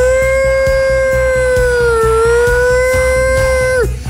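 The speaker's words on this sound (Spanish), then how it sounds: "Suenan las sirenas en Colombia" A loud, sustained siren wail holds a steady pitch with a slight dip in the middle before cutting off. A rhythmic drum beat pulses underneath.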